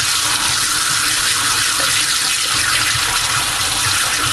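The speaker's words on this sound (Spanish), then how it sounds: "Pasaremos agua fría un momento para acelerar un poco el tema" Cold water pours steadily from a household tap into a drain pipe being cleaned, a constant broadband rush with no pauses and no voices.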